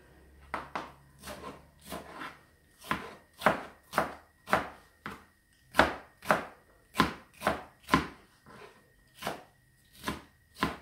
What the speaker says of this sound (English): I'll start this one now to saute and chop the leaves